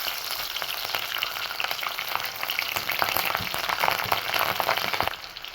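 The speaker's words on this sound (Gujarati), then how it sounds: "હવે આપણે એમાં લીલા મરચાં નાખીશું," Green chilies frying in hot oil with mustard and fenugreek seeds for bataka bhaji, a dense, crackling sizzle with rapid spattering pops that builds slightly louder toward the end, close up and with no voices.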